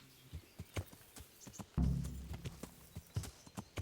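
Horse hooves clip-clop in the medieval video game Kingdom Come: Deliverance, sharp uneven hoofbeats close by, with a heavier thud and a short burst of snorting or whinnying midway.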